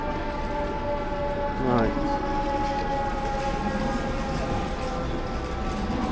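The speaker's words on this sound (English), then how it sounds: "More fire engines and ambulances, really." Fire engine and ambulance sirens wail through Times Square at night, a rising siren sweep heard at a distance over steady city street noise and traffic hum, with a voice briefly speaking.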